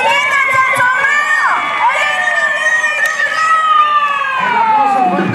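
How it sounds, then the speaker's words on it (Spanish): Rodeo crowd at a Mexican jaripeo in Hillsboro loudly cheering and shouting with raised voices and whistles, a continuous dense roar throughout with no clear clapping evident. "vamos a darle un fuerte, fuerte, fuerte aplauso"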